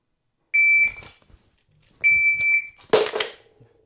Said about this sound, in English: Shot timer running.